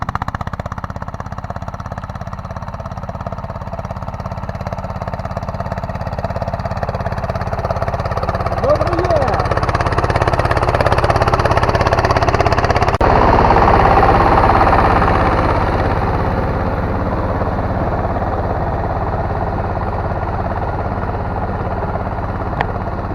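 A tractor plows across corn stubble at the start of the plowing season, its engine a loud, steady drone that swells slightly mid-way, heard from close in the cab.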